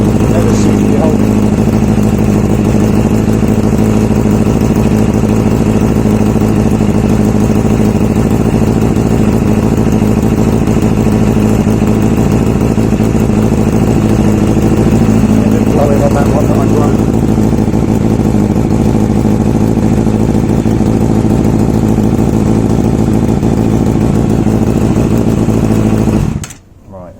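A steady, rumbling engine idles close by with a constant low drone and a faint puffing, chuffing texture from an exhaust leak at cylinders one to three, continuing unchanged until it cuts off at the very end.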